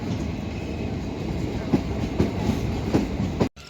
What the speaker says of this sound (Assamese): ট্ৰেইনখন গুচি গ'ল।